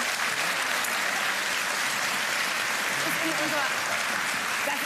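A studio audience on a cooking show gives sustained applause, a loud, even wash of many hands clapping steadily, with talk running faintly underneath.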